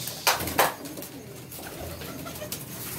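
Lakha Golden pigeons give soft low coos beneath two sharp handling knocks near the start, with a quiet, muffled background throughout.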